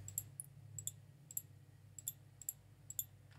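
Crisp computer mouse clicks while deleting items in Cricut design software, about a dozen sharp ticks, some in quick pairs, spaced unevenly over a low steady hum.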